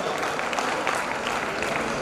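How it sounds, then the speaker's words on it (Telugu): Attendees at a voluntary service organisation's event give an even, continuous round of clapping. It stays loud and steady throughout the short stretch. "ఒకసారి గట్టిగా చప్పట్లతో అభినందనలు ఏర్పాటు చేద్దాం"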